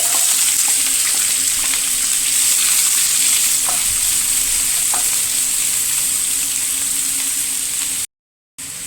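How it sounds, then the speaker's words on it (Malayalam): Three finely chopped onions fry for paneer butter masala with a loud, continuous close-up sizzle. The hiss stays even and only drops out for a moment near the end. "ഇനി ഇതിലേക്ക് മൂന്ന് സവോള ചെറുതായി അരിഞ്ഞത്"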